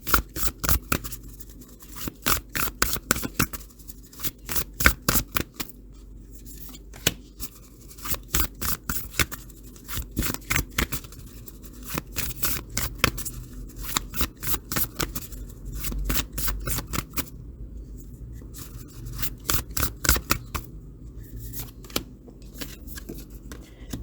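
Oracle cards from a Sacred Destiny deck shuffled by hand in a quiet room, a long run of crisp riffling slaps and flicks in uneven bursts, close and fairly soft, with brief pauses between rounds and no talk.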